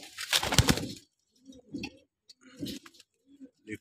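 Pigeons of a Punjabi Malwai breed coo in a few soft, low bursts with short pauses between them, following a louder fluttery rustle at the start.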